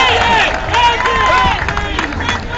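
A large outdoor crowd at an anti-war rally and march in New York City cheers and applauds for Ramsey Clark, a loud, dense roar of shouts and whistles with scattered clapping.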